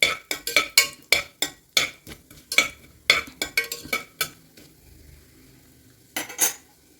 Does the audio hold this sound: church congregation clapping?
no